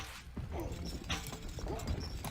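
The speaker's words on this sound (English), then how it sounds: "Some horse archers are going out, but it's not the main force." Horse archers ride out in Stronghold Crusader, with faint hoof clip-clops and a soft whinny underneath a distant battle ambience in the strategy game.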